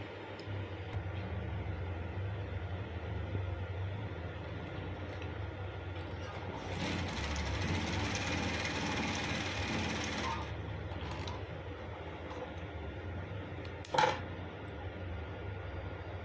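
A sewing machine top stitches a single welt pocket, running as a steady, continuous mechanical drone that grows louder mid-way, with a brief sharp click near the end and no talking.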